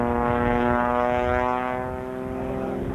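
A propeller aerobatic airplane climbs for altitude during its routine at the Dayton Air Show, its engine a loud, steady droning whine that holds strong, then eases slightly partway through without fading away.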